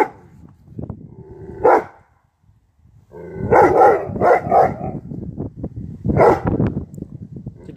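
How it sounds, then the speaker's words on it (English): A dog barks in short, loud bursts, a single bark followed by a cluster of sharp barks and a final yelp, with quieter gaps between the bursts. "you're just barking because you don't know what else to do"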